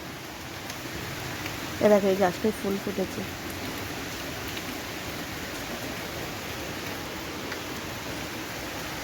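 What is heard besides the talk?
heavy rain falling outside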